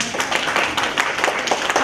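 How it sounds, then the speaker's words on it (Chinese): Applause from an audience at an organic farming lecture, a dense, steady patter of many hands clapping for about two seconds with no talk over it. "农业专家通常这时候就有掌声"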